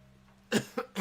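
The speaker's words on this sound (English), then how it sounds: "Got a little bit of a cough going right now" A person with a cold coughs three times in quick succession, close and moderately loud against a quiet room background.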